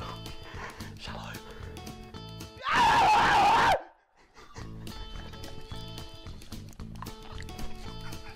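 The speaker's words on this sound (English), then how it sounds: "Scream so loud." Loud, harsh screaming bursts out for about a second in the middle of a gaming stream, standing well above the surrounding music and game sound, then cuts to a brief near-silence.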